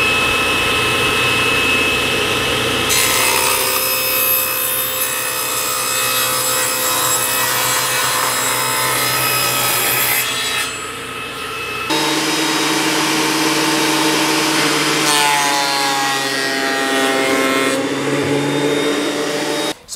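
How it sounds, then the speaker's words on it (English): Table saw and thickness planer cutting wood in a shop, loud sustained whining machine roar with cutting passes, pitch shifting as the board feeds through and a brief pause midway before another run. "We're gonna take it over to the table saw, and we're gonna square up the other side, and then we're gonna take it to the thickness planer"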